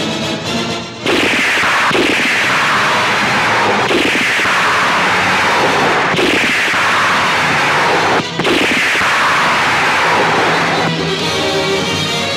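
Loud, sharp gunshots in a 1992 Pakistani film crack out at intervals of about two seconds, each blast followed by a long, fading echo.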